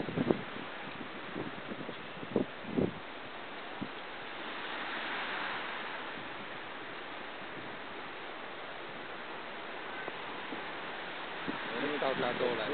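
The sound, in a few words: wind blowing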